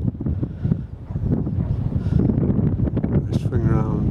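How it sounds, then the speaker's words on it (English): Wind gusting across open moorland in Swaledale, a steady low roar buffeting the microphone throughout, with a voice faintly mixed in underneath. "the wind's got up again"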